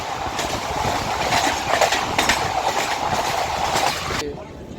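Barasat to Sealdah local train running, a loud steady rumble with rhythmic clickety-clack of wheels on rail joints, heard from inside the carriage, fading abruptly to quieter noise near the end.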